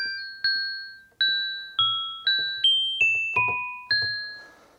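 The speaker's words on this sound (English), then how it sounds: "You can get some real bell sounds out of this." Bell-like tones from a Behringer Brains synthesizer module: eight or nine struck notes with clear pitched partials, each sharp attack decaying in turn, rising and falling in a slow melodic sequence with no talking.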